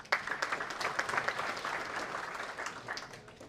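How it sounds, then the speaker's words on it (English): Audience applause at a Correctional Service Week event, steady and fairly close, a dense patter of clapping filling the room throughout with no talk over it. "Let's give him an applause."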